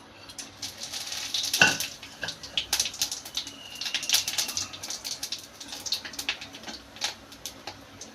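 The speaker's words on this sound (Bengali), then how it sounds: "এবার আমি এর ভেতর দিয়ে দেবো একটা তেজপাতা, দুটো লং, দুটো এলাচ আর একটা দারচিনি আর একটু গোটা জিরে ফোড়ন দিয়ে দেবো।" Bay leaf, cloves, cardamom, cinnamon and whole cumin sizzle in hot oil. A soft, continuous frying hiss runs under occasional stirring clinks of a utensil against the pan, with faint bird calls in the background.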